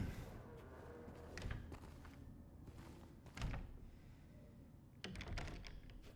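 A locked door in the video game Silent Hill 2 rattles without opening, giving a few faint, dull knocks and thuds spread over several seconds.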